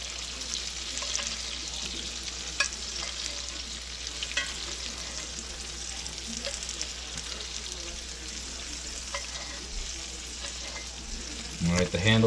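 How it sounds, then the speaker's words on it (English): Chicken being basted in a hot sizzling pan: a steady, moderate frying sizzle with faint spoon clinks and scrapes, and a louder clatter at the end. "Alright, now you baste it."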